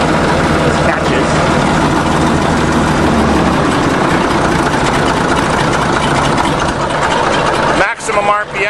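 A 1953 International bulldozer engine idles at its lowest speed, just under 100 RPM, with a loud, close, steady rumble that continues almost unchanged and then breaks into a brief rough disturbance near the end.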